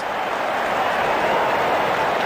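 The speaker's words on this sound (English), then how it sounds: "good innings and gets a grand applause." A cricket crowd's applause fills a stadium during a New Zealand versus England T20 match as a batter reaches fifty, a dense, even wash of clapping that holds steady and loud throughout.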